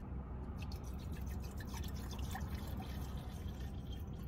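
Water from a bottle poured into a pan on an MSR camping stove inside a van in winter, a quiet, steady trickle with light splashing, heard close up and alone.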